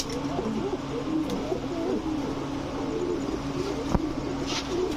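Pigeons coo steadily and close by, a low continuous warble from a group of birds including a male, likely giriraj-type pigeons at a pigeon sale, with no talk over it.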